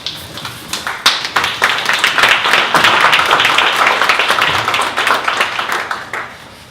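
An audience claps for a presenter at a startup pitch event, with dense applause building and holding steady throughout before tapering at the end.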